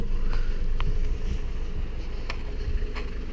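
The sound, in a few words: Toyota Celica 1.8 VTi engine running quietly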